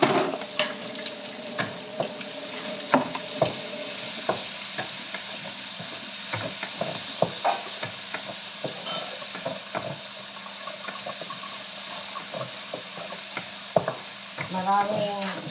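Onions sizzle steadily in a hot frying pan for a meat menudo, with repeated scraping and clinking of a spoon stirring them, close and continuous.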